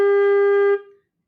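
A clarinet holds a single sustained reed-like high A steadily for under a second, then releases it with a short fading tail into silence.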